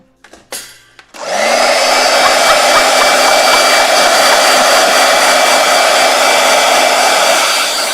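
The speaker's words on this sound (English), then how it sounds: "Let's do blow dryer." A blow dryer switches on after a few clicks and runs loud and steady, a continuous close-up whooshing roar with no voices.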